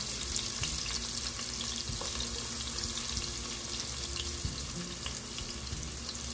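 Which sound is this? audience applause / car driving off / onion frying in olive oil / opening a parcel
onion frying in olive oil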